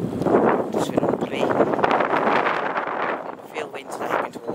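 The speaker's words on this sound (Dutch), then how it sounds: "Veel wind dat je kunt horen, hè." Strong wind buffets an unshielded microphone outdoors, a constant loud roaring rumble with gusty swells and no letup throughout.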